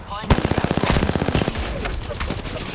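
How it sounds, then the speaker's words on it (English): Rapid automatic gunfire in the video game Apex Legends, a close, loud burst of evenly spaced shots that trails off into scattered crackling fire. "I am taking fire, friend."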